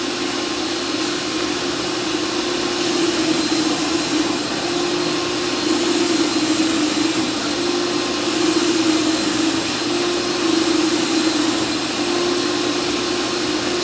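A Multispec paint spray gun hisses steadily at low pressure with the setting turned all the way down, giving a continuous loud airy rush with a machine drone underneath and slight periodic swells, no talking.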